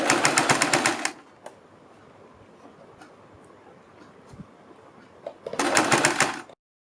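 A sewing machine stitches fabric strips onto a kurti neckline in two loud, rapid-running bursts with a quiet pause between them and no talking.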